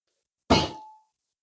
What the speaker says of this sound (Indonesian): Gong ya.